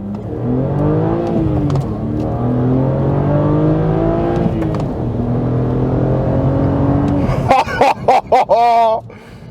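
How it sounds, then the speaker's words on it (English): A BMW 130i hatchback engine and exhaust climb through the revs in loud, rising pulls, easing between gear changes, with a burst of sharp shifting crackle near the end. "it's got a better sounding exhaust, it has more torque, more power"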